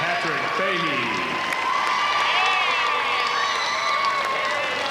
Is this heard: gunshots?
no